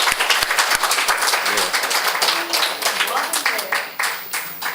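Audience clapping at a lecture at a Korean university for a guest being introduced, a brisk steady round of applause from a room of listeners that thins toward the end.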